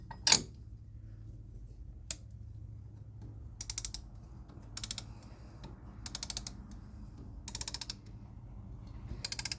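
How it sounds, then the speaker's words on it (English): Compressing a dual-piston brake caliper on a 2006 Nissan Xterra with a ratcheting compressor tool, producing bursts of rapid clicking separated by short pauses and one sharp initial snap, close and fairly quiet, with no talking. "Now I got to get the caliper compressed, and these are dual piston calipers."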